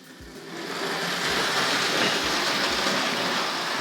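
A model steam locomotive runs along model railway track, making a steady whirring hiss with faint, regular low clicks from the rail joints, continuous and fairly quiet throughout.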